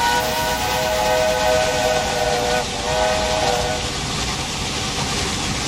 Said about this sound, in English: And there is the train from Montreal.